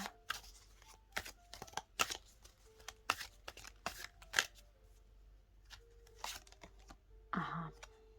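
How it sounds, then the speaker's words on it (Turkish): Tarot cards drawn from a deck at close range, with soft flicks, slides and papery snaps in an irregular run, ending in a longer shuffling rustle, and no talk over them. "Ve bir neçe kart daha çekeyim bu kartın üstüne."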